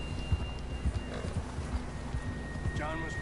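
Horse hooves clip-clop at a steady trot in Red Dead Redemption 2, with a brief whinny near the end over a low outdoor background.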